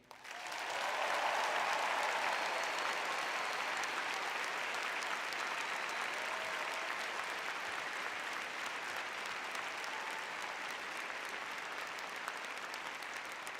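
A large outdoor crowd at a UCLA college commencement claps for a speaker, the applause swelling quickly and then holding as a broad, steady roar that fades only slightly toward the end.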